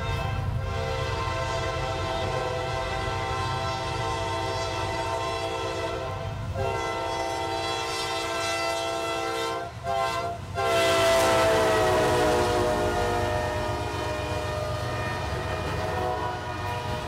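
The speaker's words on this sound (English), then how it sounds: "G530-16 is an Olney, Illinois to Talladega, Alabama grain train" A CSX freight grain train passes on a mainline, its horn sounding long loud harmonic blasts with brief gaps, over the continuous rumble and clatter of rolling railcars.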